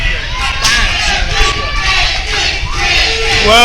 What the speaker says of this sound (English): Well, you hear the crowd.